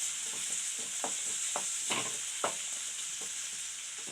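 Onion and green chili fry in an oiled pan as a spoon stirs them, with a continuous close sizzle broken by several sharp scraping strokes at a loose, uneven rhythm, and no voices.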